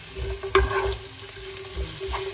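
Onions sautéing in a hot pan give a steady, close sizzle, broken now and then by the scrape of a stirring utensil, with no one speaking.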